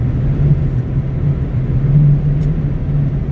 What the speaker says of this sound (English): the ladder rack on the top of my truck is extremely noisy